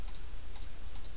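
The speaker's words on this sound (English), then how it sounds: "So if you do type backslash n," Light keystrokes on a computer keyboard typing a backslash and the letter n, a few soft clicks in small pairs over steady low background hum.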